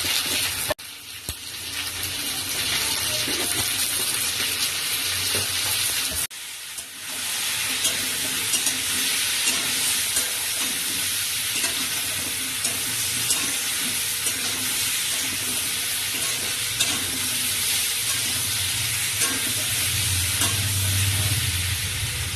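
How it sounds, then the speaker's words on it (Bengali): Cut taro and potatoes sizzle and fry in a pan with salt and turmeric, a steady close hiss broken by scraping stirs, with a short pause early on, then continuous frying to the end. "ভালো করে ভেজে নেবো কাটি কুচুর আলু, লাল লাল করে একটু লাল লাল করে ভাজা হয়ে গেছে।"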